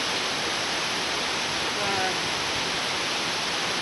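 Garden waterfall in Rome roars as a constant broadband wash of falling water, steady and fairly loud, with a faint voice briefly audible under it.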